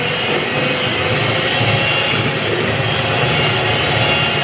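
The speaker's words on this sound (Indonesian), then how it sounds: "Nah, terus ini kita mixer lagi." An electric hand mixer runs continuously through banana cake batter, a steady loud whirring drone with no pauses and no talking.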